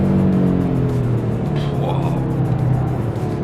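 An Audi RS3 driven fast on mountain roads in the Vercors: a loud, steady engine drone with a rising note partway through, under a person talking.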